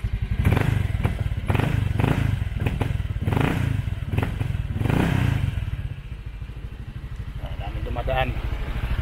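Honda Click 125 scooter idling through a Hero Power aftermarket exhaust pipe, a close, steady, bassy pulsing thrum with thuds and clatter, with someone talking over it.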